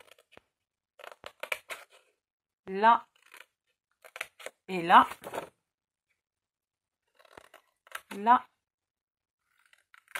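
Small scissors snip through paper in a few short, quick bursts separated by pauses, with a voice speaking briefly between the cuts.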